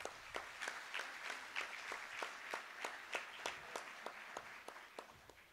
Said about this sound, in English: I think Trevor deserves a nice round of applause.